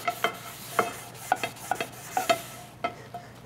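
Iron cookware being scrubbed with kosher salt or a chain mail scrubber: a series of short, gritty scraping strokes in an uneven rhythm, close and moderately loud, with no voice.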